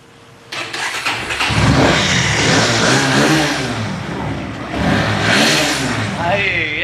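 A 2021 Bajaj Pulsar NS 160 motorcycle starts and revs up, loud and close, its engine rising and falling in surges beneath people talking over it.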